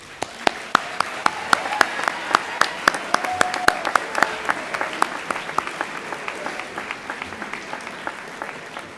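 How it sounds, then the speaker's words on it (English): Steady applause from a crowd at a school class night ceremony, many hands clapping at once with sharp individual claps standing out throughout. "Please join me in applauding the efforts of your family and of the faculty this year."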